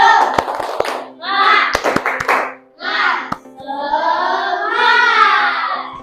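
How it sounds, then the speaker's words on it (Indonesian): A classroom group claps a rhythmic chant pattern, sharp clustered hand claps spaced between stretches of children chanting together loudly and close. "tepuk semangat dulu"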